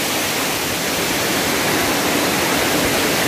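Dara Waterfalls rushes in a loud, steady broadband roar, close and continuous without a break, with no voices over it.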